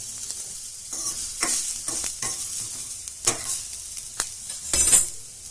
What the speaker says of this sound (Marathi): कांदा भाजताना आपण त्यात थोडं तेल घालू हा चांगला लाल होईल तोपर्यंत भाजायचा